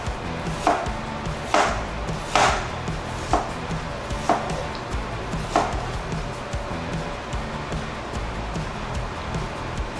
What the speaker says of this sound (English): Once you got them done, little slices like this, just slice, thin slices.